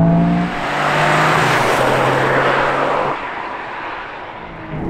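A Toyota Yaris GR Four engine accelerating hard, a loud, close, sustained roar with rising and shifting tones, easing off slightly toward the end with no talk over it.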